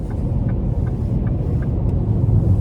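A 2026 Ford Explorer ST Line accelerating in sport mode on light throttle, with a steady close cabin rumble of engine and road noise and a faint rising tone, continuous and without speech.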